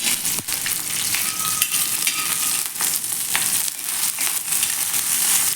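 Green chillies frying in oil for a raw tomato thecha, a loud continuous crackling sizzle with scattered pops and stirring scrapes throughout.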